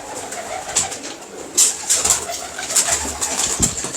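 Pigeons coo repeatedly at close range over steady ambient noise, with soft overlapping calls and a few louder bursts, no talking.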